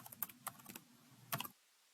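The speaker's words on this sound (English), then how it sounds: "we'll type the legal name of your company here." Keys clatter on a computer keyboard in a quick run of close, crisp taps that ends in a short burst, then stops, leaving quiet with no talking.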